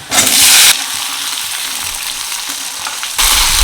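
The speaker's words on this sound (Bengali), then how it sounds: "খুব ভালো করে ভেজে নেব আলু আর পেঁয়াজ লাল লাল করে ভেজে নিয়েছি" Diced potatoes and onions fry in a pan with a loud, bright sizzle that bursts up at the start, drops to a softer crackle while being stirred, then flares loudly again at the end.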